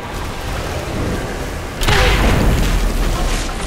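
A deep, booming explosion in the video game Rise of the Tomb Raider erupts suddenly midway through, rolling on as a loud sustained rumble after a steady background hiss.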